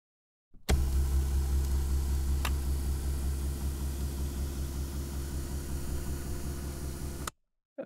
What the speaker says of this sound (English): This sound was recorded from a car seat motor.